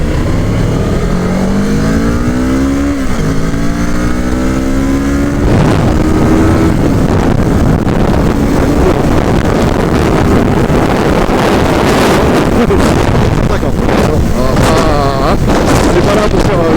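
Unrestricted Kawasaki ER-6N parallel-twin motorcycle accelerating hard on a road in Thailand, its engine note climbing through rising revs with gear changes, loud and close under heavy wind buffeting on the microphone.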